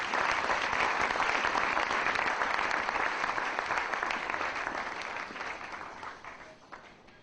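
A church congregation applauding after a scripture reading, a dense sustained round of clapping that fills the room and slowly fades toward the end.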